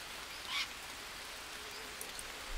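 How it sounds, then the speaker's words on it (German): Steady rain falls in the jungle survival game Green Hell, a faint, even wash of hiss heard alone with no talking. "Wobei der Regen mal wieder nicht aufhört."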